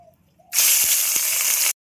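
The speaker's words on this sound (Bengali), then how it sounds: "শিং মাছের ডিমটা একটু ভেজে নেব" Stinging catfish roe drops into hot oil and sets off a sudden, loud, close hiss of frying. The sizzle holds steady for just over a second, then cuts off abruptly.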